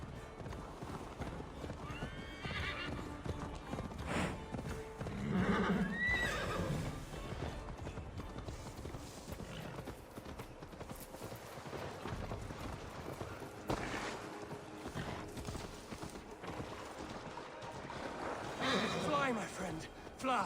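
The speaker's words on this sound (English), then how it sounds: "Ride like Sleipnir's hooves! Your horse is slow, and her rider's drunk" Hooves clip-clop at a gallop in Assassin's Creed Valhalla, with a horse neighing, rider shouts, and voices talking over a steady, close rhythm.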